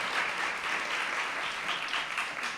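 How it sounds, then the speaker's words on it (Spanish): A theatre audience at a live show applauds a newly arrived guest, a soft, distant, continuous patter of many hands lasting a few seconds. "Un aplauso para Gonza Gallego, por favor"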